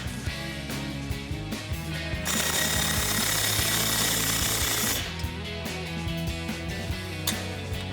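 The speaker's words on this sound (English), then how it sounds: "So then I'll take my 15mm socket and tighten down my clamp." An exhaust clamp on a 2022-2024 Toyota Tundra's Flowmaster FlowFX dual exhaust is tightened down with a 15mm socket on a power tool, a loud, close rattling hammer burst of several seconds standing out against a background of steady mechanical noise.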